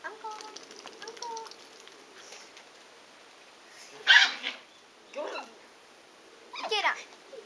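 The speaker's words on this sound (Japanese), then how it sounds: "吠えながら攻撃すんな" Dogs barking while they scuffle and fight indoors: a few sharp, loud barks and yelps in short bursts, separated by quieter gaps and fainter scuffling.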